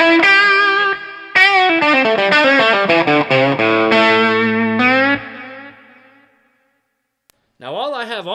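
An electric guitar through a Shira Sol Drive overdrive pedal, with light delay and reverb, plays a run of distorted notes and sustained chords that ring out and fade, followed by a wavering bent note.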